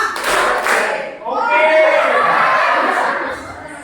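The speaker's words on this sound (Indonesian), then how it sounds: "Tepuk 2. Tepuk 3. Tepuk 4." A group claps in a rhythmic counted pattern during a positive-discipline classroom exercise, sharp bursts of hand claps giving way to a sustained burst, with voices calling out between them.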